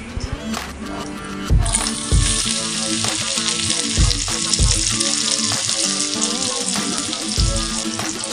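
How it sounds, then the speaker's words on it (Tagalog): Garlic sautés loudly in a hot pan with a dense, steady sizzle, punctuated by periodic low knocks of stirring against the pan, no talk. "Gigisa na po tayo ng bawang, bango."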